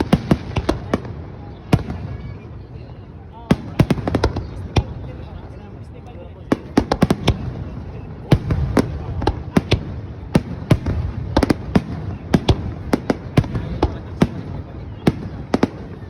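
New Year fireworks in Japan burst in a rapid, irregular string of sharp bangs and crackles, some near and loud, others fainter, echoing over a low background rumble.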